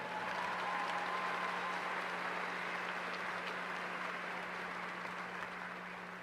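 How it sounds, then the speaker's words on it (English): Steady applause from a large audience at a 2019 Stony Point High School graduation ceremony, filling the room continuously before gradually tapering slightly, with a faint electrical hum underneath. "Let us give our seniors a round of applause for all their hard work."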